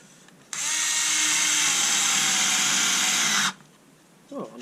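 A Black & Decker KC460LN cordless screwdriver drives a screw into wood with one steady, loud, high whine lasting about three seconds, close by, then stops abruptly, followed by a short faint rattle.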